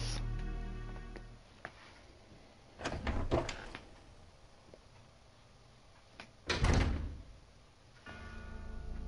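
A locked door is tried in Resident Evil 0: two dull rattling thuds a few seconds apart, each a short burst of handle jiggling against a quiet, droning background.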